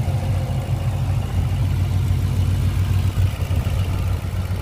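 A 2005 Ford Mustang GT V8 fitted with JLT long-tube headers idles steadily up close, a loud, continuous deep rumble with a faint uneven lope and no voices over it.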